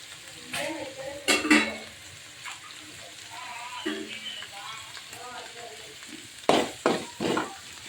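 Greens for chicken palak gravy frying in a pan give a close sizzle with bursts of stirring and scraping against the metal, while a voice talks intermittently over the cooking.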